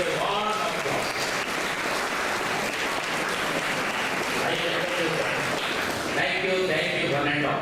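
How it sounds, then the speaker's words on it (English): Steady, sustained applause from a crowd at an Engineers Day celebration, filling the whole stretch, dense and even, with faint voices mixed in. "please join me in welcoming Engineering Rajendra Kalbavi"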